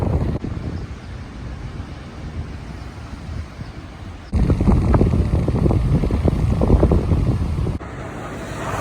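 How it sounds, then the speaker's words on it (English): Strong wind buffets an outdoor microphone near a canal on a cycling route in Japan, a loud rushing roar that swells abruptly partway through and then drops again, with no voices. "It's really windy here."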